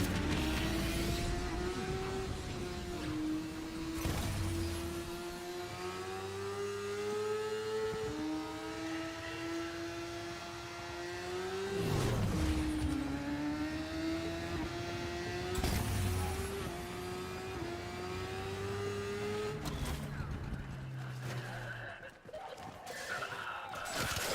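A car engine revs and rises in pitch through several long, sweeping accelerations, loud and close, with sharp gear-change breaks between the pulls and a scattering of voices under the motor.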